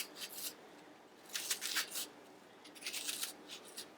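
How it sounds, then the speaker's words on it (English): A knife chops through an onion on a board in several quick bursts of crisp cutting strokes, faint and close, with short pauses between them. "And this is a quicker way to chop onion for me."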